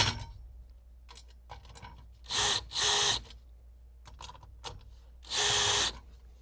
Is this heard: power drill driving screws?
yes